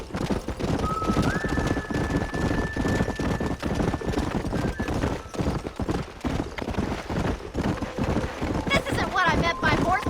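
In the Red Dead Redemption video game, hooves pound in a steady galloping clip-clop with a horse whinnying, set against wind and game music, and characters talk over it.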